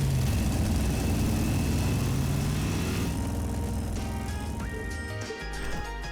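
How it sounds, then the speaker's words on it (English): An engine runs with a steady droning hum and layered harmonic tones, loud and close, its pitch shifting and some tones dropping away near the end. "It has an engine!"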